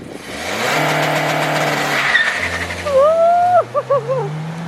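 A car engine revs hard and launches, tires squealing briefly, then the engine climbs through gears with rising pitch, loud and close.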